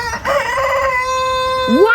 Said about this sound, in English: we have had this chicken for like over a year.